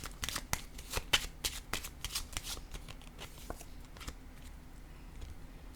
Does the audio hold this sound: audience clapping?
no